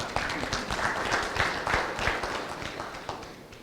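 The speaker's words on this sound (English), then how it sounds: "If I were you, I would clap for them." Audience applause at the opening session of a regional safety oversight organization study validation meeting, a dense crowd of clapping hands, steady and moderately loud, easing slightly toward the end.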